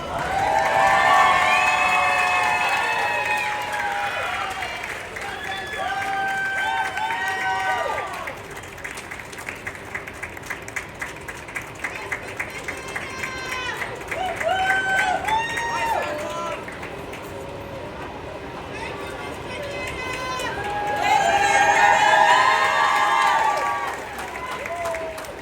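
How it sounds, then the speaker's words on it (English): An audience at a school graduation ceremony claps and cheers, loud at first, easing into scattered clapping, then swelling again, with an announcer speaking over it and children's shouts mixed in. "Please give them a big round of applause."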